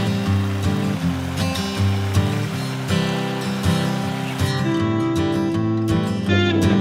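The Kali river on the India–Nepal border in the Himalayas near Dharchula rushes continuously. Its roar is dense and steady, mixed with a droning tonal hum that is likely a vehicle engine.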